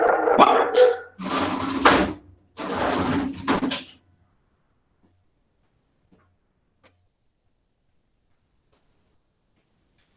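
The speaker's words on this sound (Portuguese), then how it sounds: "Tem um cachorro latindo aqui" A dog outside a window barks three times in a row, fairly loud and muffled, followed by near silence with a few faint clicks.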